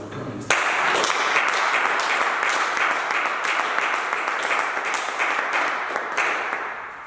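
Church congregation applauding to acclaim God, a dense, sustained wash of many hands clapping that starts abruptly and stays loud throughout, slowly easing off toward the end with no clear voices on top.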